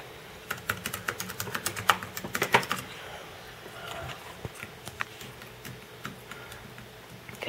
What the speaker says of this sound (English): he thinks he's playing with the real keyboard